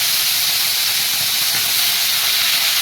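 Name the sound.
prawns sizzling as they go into the hot wok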